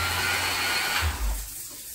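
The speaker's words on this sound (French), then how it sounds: "vous n'allez pas entendre la ponceuse, le bruit de la ponceuse, mais plutôt le bruit de l'aspirateur" A shop vacuum runs hooked up to a Mirka sander. Steady, loud broadband whirring fills the clip and eases off slightly toward the end, with no voices.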